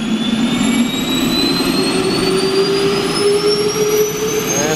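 An airliner engine start cart winds up with a loud, steady turbine whine that rises gradually in pitch, heard close and alone over a dense roaring rush.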